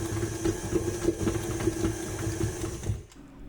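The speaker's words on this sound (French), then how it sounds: "nous allons rajouter 4 minutes mais en deuxième vitesse pour que la pâte pétrisse" Stand mixer kneading fougasse dough at second speed, a steady whirring motor hum with a regular rhythmic thump, close and moderate, cutting off near the end.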